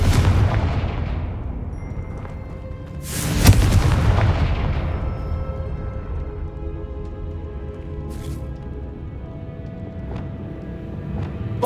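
Confringo fire spell blasts in the video game Hogwarts Legacy on PS5, a booming impact that decays slowly, then a second louder blast with a long rumbling tail and faint later pops.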